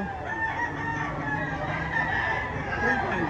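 A fighting rooster, a bulek talisain gamecock in Lipa, Batangas, crows loudly and close, one long drawn-out call over steady farmyard background noise.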